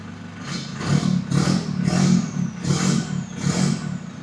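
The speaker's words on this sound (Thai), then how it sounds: "โอ้โหนี่ครับเสียงท่อพี่" A 2023 Isuzu D-Max 1.9 pickup truck engine revs repeatedly in bursts, its exhaust rumbling deep and loud with about five rising surges, close by and with no talking.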